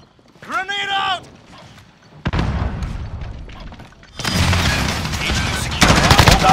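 Grenade blast and sustained gunfire in a Modern Warfare multiplayer match, with a voiced callout first, then a loud burst at about two seconds and dense automatic fire building to the end.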